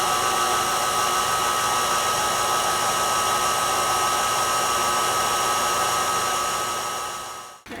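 An electric mixer whirs steadily for several seconds while whipping an ice cream mixture until thick, a loud continuous motor drone that cuts off at the end.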